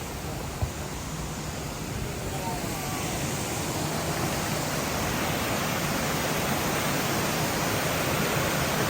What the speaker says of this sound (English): Top of Multnomah Falls. Beautiful waterfall.